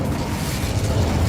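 Incendio fire spell cast in Hogwarts Legacy, a dense low rumbling burst of flame that swells and roars continuously, loud and close.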